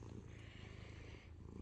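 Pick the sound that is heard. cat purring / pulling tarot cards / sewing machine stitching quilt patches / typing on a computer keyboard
cat purring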